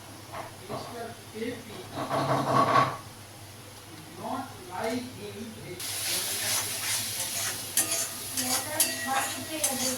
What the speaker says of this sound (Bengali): এদিকে আমার মশলাগুলো কষতে কষতে প্রায় কষা হয়ে আসছে